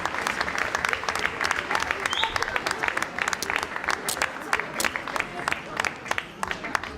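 Audience at an Auber Class music show applauds a singer after her R&B, groove-style performance, steady clapping filling the room from start to finish while a voice speaks over the applause.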